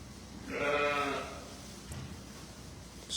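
A single sheep in a barn lets out one clear, wavering bleat lasting about half a second, fairly close, followed by quiet barn background.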